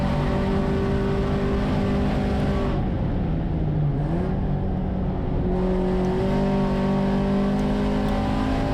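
VW Jetta GLI Super Touring race car driving onto the main straight at Thunder Hill Raceway, a loud, continuous close engine roar with revs climbing, dipping briefly at a gear change, then rising again.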